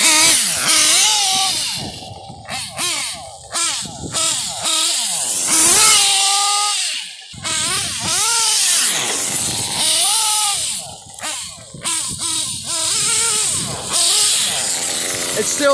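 A Kyosho RC model car's nitro engine running rich, a loud, continuous buzzing whine that rises and falls in pitch as the throttle is blipped, close by and alone.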